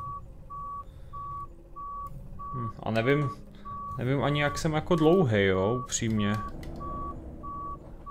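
Evenly spaced reversing beeps from a SOR Ekobus C 12 CNG city bus in OMSI 2, a steady tone pulsing throughout at a regular rhythm while someone talks over the middle stretch.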